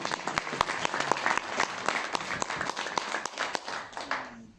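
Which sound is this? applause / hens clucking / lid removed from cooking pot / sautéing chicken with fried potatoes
applause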